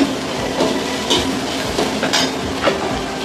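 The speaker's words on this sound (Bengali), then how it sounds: "এবারে মশলা দিয়ে ভেজে নেব একটু।" Maggi masala frying in a pan: a continuous close sizzle with soft stirring scrapes and occasional light clinks of a utensil against the pan, fairly loud and steady, no voices.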